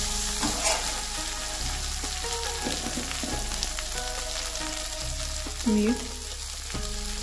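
Chopped okra sizzles steadily as it fries in a pan, with intermittent scraping and stirring clatter from a utensil over a constant hiss; a brief word is spoken once.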